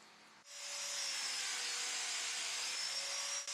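A Domino joiner plunges into wood panels, a steady loud high-pitched whine with a faint tonal hum starting after a brief quiet moment and running continuously to a sudden dip near the end.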